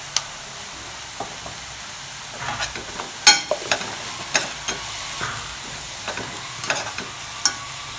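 Carrot and onion stir-fried in a pan with salt and turmeric, a soft background sizzle under scattered spoon scrapes and taps against the pan, a few sharper clinks standing out, no voices.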